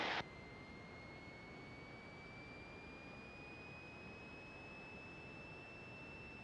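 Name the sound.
Piper Arrow aircraft engine run-up at 1800 RPM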